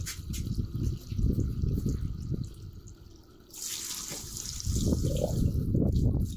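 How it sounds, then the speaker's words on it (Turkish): Water from a hose pours into a newly built ecosystem fish pond outdoors, a steady trickling and splashing flow that changes character partway through, getting brighter and louder. "Aç bakalım suyu da."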